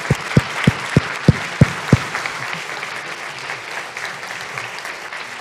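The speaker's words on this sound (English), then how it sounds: "Please applaud again." A public meeting audience about a tram route applauds: a few sharp, evenly spaced claps at first, then a steady wash of clapping from a roomful of people that carries on without a break.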